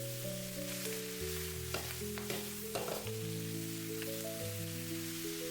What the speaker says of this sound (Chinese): 接下来把切好的白菜直接倒在锅中，开大火快速的翻炒均匀，把白菜炒干水分。